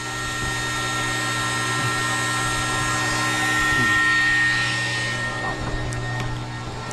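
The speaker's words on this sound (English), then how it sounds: "That's kind of how the vacuum pump works." A vacuum pump runs aboard a salvage boat recovering a lost buoy, giving a steady loud mechanical whine and hum with a constant low drone, swelling slightly midway and continuing without pause.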